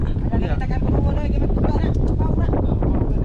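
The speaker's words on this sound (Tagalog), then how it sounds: "Lakas ng hangin mga idol." Strong wind at sea buffets the microphone with a constant loud roar and rumble, with people's voices faintly mixed in.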